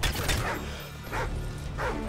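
A dog barks repeatedly in Call of Duty: Modern Warfare 2, a few sharp yelping barks set against dense in-game noise with no talk over them.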